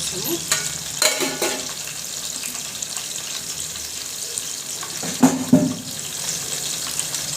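Cumin seeds frying in hot oil, giving a steady close sizzle with a few louder scraping stirs and clinks of a spoon against the pan, no voices.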